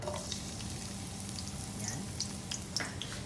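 Garlic fries in hot oil for Filipino garlic fried rice, giving a steady, close crackling sizzle with small pops and spatters throughout.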